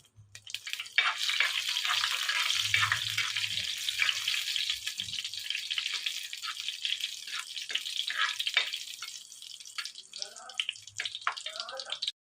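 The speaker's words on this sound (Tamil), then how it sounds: "இந்த கருவாட்டு வறுத்த சட்டியிலேயே மிளகாவும் ஃப்ரை பண்ணிக்கலாம்." Dried fish and chillies fry together in a pan, giving a steady close hiss and crackle that holds through most of the stretch and thins out near the end, with a few soft clinks from a utensil.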